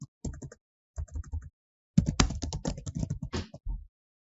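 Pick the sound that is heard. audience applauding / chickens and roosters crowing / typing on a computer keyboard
typing on a computer keyboard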